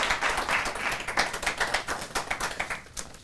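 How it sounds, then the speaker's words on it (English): Audience applause at a political party leadership debate, a modest, fairly thin round of clapping with individual claps distinct, steady for about three seconds before tapering off. "Applause break number 3."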